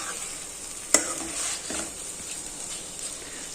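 Leftover roti dough pasta being stirred in a pan, a quiet steady sizzle with one sharp utensil clink near the start and soft scraping after, no talking.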